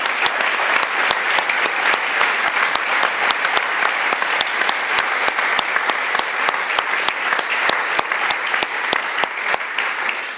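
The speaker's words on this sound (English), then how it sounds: "So a big round of applause for all our colleagues here." Audience applause for colleagues at a company talk on kanban at SPAR ICS, a steady dense clapping sustained at even loudness throughout, with no voices over it.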